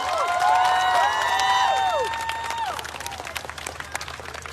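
Outside parliament, a crowd applauds at a rally after a prime-ministerial vote, a dense clatter of clapping crossed by whistles or cheering voices, fairly loud and thinning toward the end.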